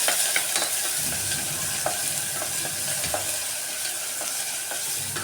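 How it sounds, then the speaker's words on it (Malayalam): Onion, ginger, garlic and green chili are stir-fried in a pan for a soybean curry, giving a steady close sizzle of frying with repeated scraping and clicking from the stirring spoon throughout. "ഇത് നന്നായിട്ട് ഇളക്കി കൊടുക്കണം കേട്ടോ."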